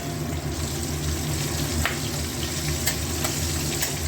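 Ginger sizzles and frying in oil in a pan over low gas, salted to keep it from spattering, a steady close crackling hiss with a few faint clicks.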